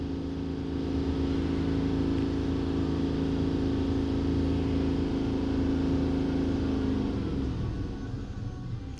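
A 2014 GMC Yukon XL with a 6.2L engine and a MAF sensor performance fault drones steadily at raised RPM, a loud, even hum that begins to settle toward the end.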